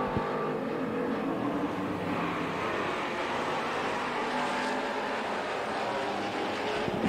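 Super Stock race cars circle a dirt oval, their engines making a continuous loud roar that holds steady from start to finish with no talk.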